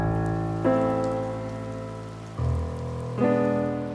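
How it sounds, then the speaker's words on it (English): Rain on a seafront beside a beach in a new town: a steady, soft hiss of falling rain runs throughout beneath loud, sustained tonal music that shifts in pitch. "Hello, rain."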